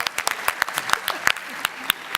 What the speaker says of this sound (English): One more round of applause is fine by me.